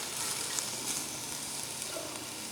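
Red beans cooking in a pot lowered close over an open fire give off a steady, soft frying sizzle with faint crackles, unbroken and fairly quiet throughout.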